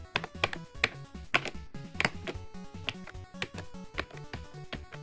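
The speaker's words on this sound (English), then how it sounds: "Let's finally connect this to my computer and do some typing." Rapid clicky typing on a homemade keyboard built to swap key layouts, with crisp key taps in an uneven, steady stream, close and fairly loud, with no voices.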